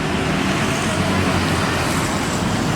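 Steady, dense roar of traffic on a busy main road in Cirebon, with cars, buses and trucks blending into a continuous close wash of engine and tyre noise.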